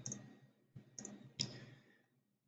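A computer mouse gives four crisp, close clicks in an irregular rhythm: two clicks, a pause, then two more, in a quiet room.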